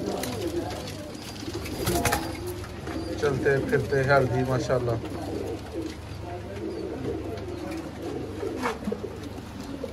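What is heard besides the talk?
pigeons cooing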